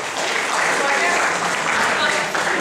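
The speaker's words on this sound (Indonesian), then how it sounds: "Tepuk tangan buat mahasiswi UAD." Audience at a university open mic comedy night applauds female students, a dense, continuous wash of clapping that fills the whole short stretch, with voices mixed into the noise.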